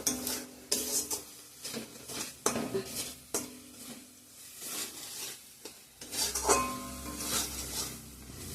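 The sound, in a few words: water added to sizzling mustard paste masala in pan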